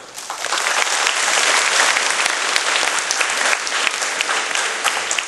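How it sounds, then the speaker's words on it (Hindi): A crowd at a school Republic Day celebration claps loudly and continuously, a thick unbroken wash of many hands close by, with no voices standing out. "ताली बजाओ"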